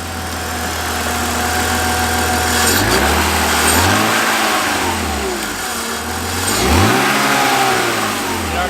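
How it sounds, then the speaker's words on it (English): A healthy car engine revved several times from idle, rising and falling in a few smooth swells, loud and close with no talking. "Can you rev it a little bit?"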